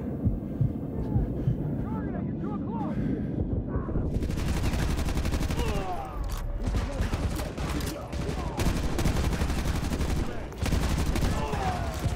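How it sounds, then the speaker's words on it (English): Continuous heavy gunfire and combat noise in Call of Duty Modern Warfare 2 Remastered, dense rapid shots and rumbling that intensify partway through and stay loud throughout, with a player's voice occasionally speaking over it. "Why are you shooting at me?"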